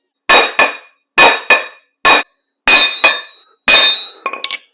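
A hammer strikes truck axle wheel studs to drive them out without a press, giving loud ringing metallic blows, often in quick pairs, across several seconds.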